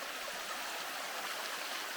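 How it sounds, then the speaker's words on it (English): A river runs steadily at a dirt-track crossing in Kaeng Krachan National Park, Thailand, its constant broadband rush of flowing water close by and unbroken, with no voices. "hit the dirt track and got to our first river crossing"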